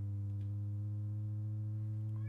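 An Endorphin.es Godspeed+ synth oscillator holds a steady, loud pure tone as it tunes to A 440, a sustained hum with stacked harmonics and a brief chirp near the end.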